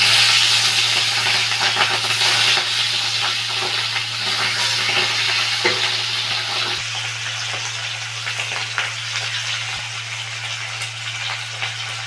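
River bacha fish are slid into hot oil in a heated kadai, setting off a loud, continuous hissing sizzle that stays strong, easing only slightly over about twelve seconds above a low steady hum.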